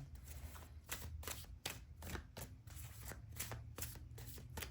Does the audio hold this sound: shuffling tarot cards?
yes